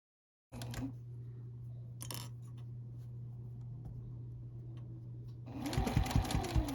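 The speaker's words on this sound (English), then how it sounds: "It's just straightforward, straight line sewing now for the whole quilt." A sewing machine stitches quilt binding in a straight line, a steady close motor hum running evenly after a short silence, with brief fabric handling and a busier burst of stitching near the end.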